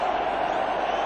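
A cricket crowd roars for a six at a 2002 India vs England one-day international in Mumbai, a steady, distant wash of cheering sustained throughout.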